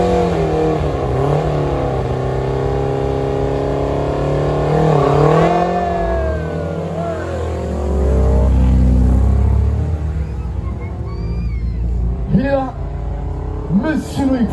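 A Renault R11 Turbo race car's engine drones and revs close by, swelling and falling as it accelerates, with a commentator talking over it throughout.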